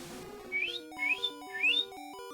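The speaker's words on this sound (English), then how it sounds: "the alarm at our work, when they lock the back door, sounds like this." A workplace back-door lock alarm plays three rising chirps followed by a stepping, beeping tone sequence, moderately loud and alone.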